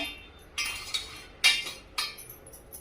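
Ground spice mix being added to a green chili pickle, with a few sharp, close clinks of a metal spoon against the vessel spaced irregularly over a quiet background.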